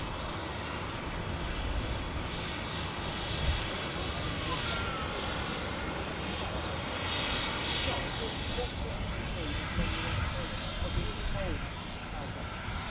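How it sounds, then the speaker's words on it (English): A Ryanair airliner arrives at Manchester Airport with a loud, continuous broadband jet engine roar that holds steady throughout, with talk underneath. "Ryanair just arriving now."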